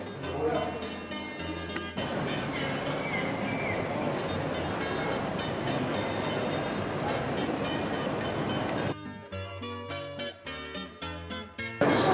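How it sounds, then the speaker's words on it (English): A train at Porto's railway station, bound for Coimbra, gives a steady rumbling roar through the middle, with tonal, music-like sounds before and after and a voice talking over it. "So here we are in the Porto train station heading off to Coimbra"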